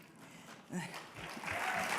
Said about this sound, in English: I'll tell him you clap